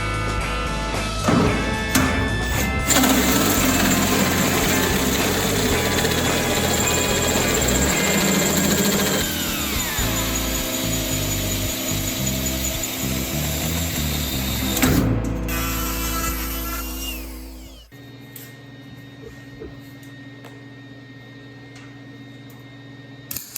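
A dense, steady machine whir with rhythmic ratcheting and grinding accompanies cutting a 1/2-inch pipe thread into a plug for a slip tank, loud and continuous for about seventeen seconds before cutting off to a quiet room hum.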